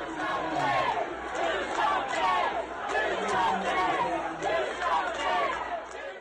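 A large crowd at a vigil for victims and survivors of a shooting chants loudly and rhythmically at Ohio Governor Mike DeWine, with the shouted phrases rising and falling in repeated waves amid general crowd noise.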